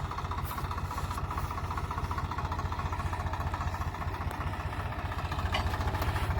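A combine harvester's engine runs during repair work on a farm, a steady, loud mechanical drone with a fast regular throb that holds evenly throughout, with no talking.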